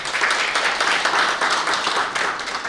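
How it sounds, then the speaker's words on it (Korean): Audience at a Korean policy forum on port authority autonomy applauds steadily, a dense, even wash of many hands clapping throughout with no pause. "다시 한번 큰 박수 부탁드립니다"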